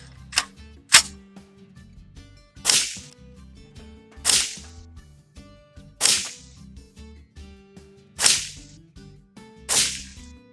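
Rifle gunfire from a neighbouring bay at an outdoor shooting range: about seven sharp reports, each ringing briefly and spaced every second or two, fairly loud with no talking.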